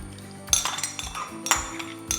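Washed sago pearls tipped into a pot of boiling water for pineapple payasam, heard as a few sharp metallic clinks and scrapes of a utensil against the pot over a low steady background.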